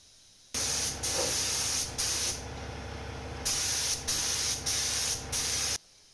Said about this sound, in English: why is he going so fast with the spray gun?